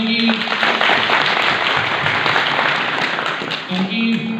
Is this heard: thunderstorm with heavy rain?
no